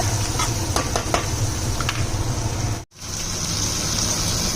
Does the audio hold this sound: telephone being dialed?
no